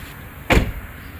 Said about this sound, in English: Now we can close our door.